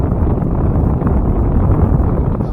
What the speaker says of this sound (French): Et hop là, le vent a commencé à monter.